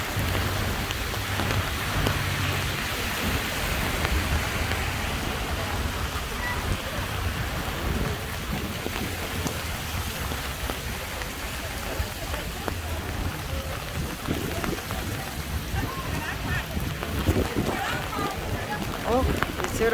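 Steady rain falls on a Barcelona street in August, a dense continuous hiss of drops on pavement with faint low rumbles beneath.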